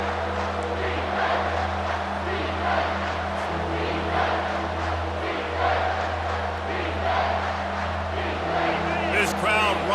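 A stadium crowd roars without letup through a second-down play at a TCU vs. UCLA college football game. The dense, loud din holds steady underneath a play-by-play voice.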